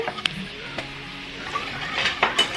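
A whisk works flour into cooked garlic in a pan, scraping softly with light clinks against the metal under a faint background sizzle.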